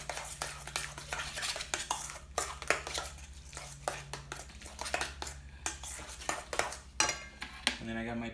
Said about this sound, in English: I'm gonna take all these ingredients and mix them really well